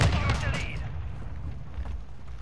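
A rapid burst of video game gunfire rattles out loud and dense, shots blurring together into a continuous crackle that slowly fades.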